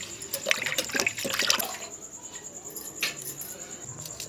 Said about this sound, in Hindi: तो सारे प्याज को धो लेते हैं।